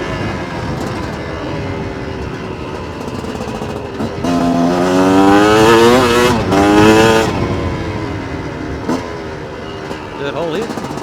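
A Chinese dirt bike engine idles, then revs up through a rising whine, drops back as gears shift, and climbs again, near and loud, with brief voices at times.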